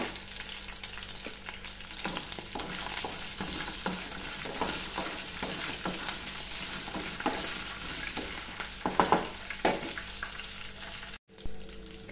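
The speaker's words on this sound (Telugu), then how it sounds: "ఆయిల్ వేడెక్కింది, పచ్చిమిర్చి వేసుకుందాం. పల్లీలు కూడా ఇందులోనే వేసి వేపుకుందామండి." Green chillies and peanuts frying in hot oil for a ridge gourd chutney: a steady sizzle with scraping stirs and occasional pops, close and fairly quiet, with a brief cut near the end.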